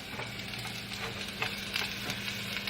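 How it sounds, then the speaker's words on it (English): Vegetables being sautéed in a pan for an eggplant lasagna roll-up sauce give a steady close sizzle, with occasional scraping stirs and no speech. "So I'm just gonna saute this."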